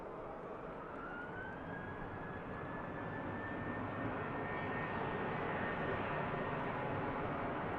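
A Ryanair jet airliner departing Manchester Airport gives a steady, broad engine roar that swells slightly louder over several seconds, with a faint rising whine riding above the rumble and no voices.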